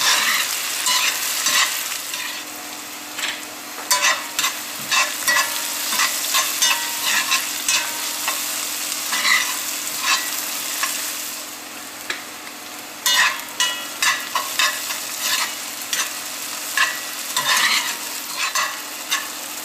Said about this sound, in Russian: Лук время от времени перемешиваем, чтобы он равномерно жарился.